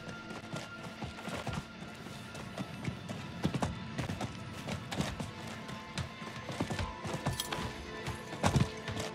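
Rapid clip-clopping hoofbeats of a galloping horse in the video game Diablo IV, with game ambient noise and occasional sharp impacts, steady and moderately loud throughout.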